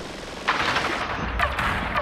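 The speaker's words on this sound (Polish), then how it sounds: "gość ma tą wybuchową broń" Explosive weapon fire in the online battle royale shooter Hyper Scape: dense, continuous booming blasts with a couple of sharper bursts, loud and close throughout, with no speech over it.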